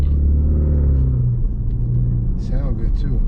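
A 2016 SRT Jeep Grand Cherokee with a converted bumper idles loudly, a deep, steady rumble heard close from inside the cabin, with a person speaking briefly over it.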